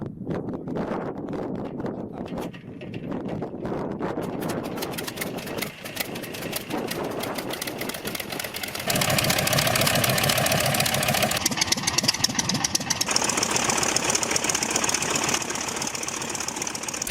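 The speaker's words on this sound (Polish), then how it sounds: "standardowy rozruch silnika wyglądał tak" A CSS-13 biplane engine cranking, catching and running on the ground at Krosno, a rough mechanical clatter that swells into a louder steady roar partway through, with wind noise on the microphone.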